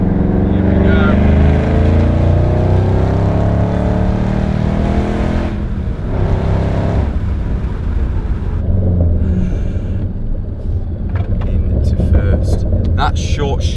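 A loud 5.4 V8 engine of a Shelby GT500 roars and revs hard nearby, rising and falling with gear changes through a short-shift gearbox, while a person talks over the rumble.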